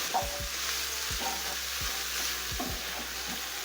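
Meat frying in a pan with cumin, paprika and black pepper, stirred with a utensil that scrapes in several distinct strokes over a steady close sizzle.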